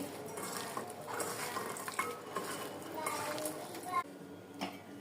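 Ginger-garlic paste, cumin powder and lemon juice are stirred together in a dish with irregular scraping and light clinks of a spoon, near and fairly quiet, with faint voices in the background.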